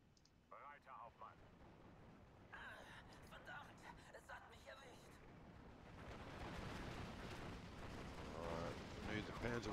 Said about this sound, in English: Panzerwerfers to fire very, very soon.